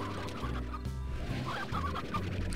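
Hens in the video game Slime Rancher cluck in a steady stream of short, overlapping calls that stay moderately loud and continuous throughout.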